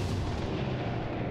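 Gunfire in the XCOM: Chimera Squad video game, a dense, loud burst of booming shots filling the whole moment with no pause.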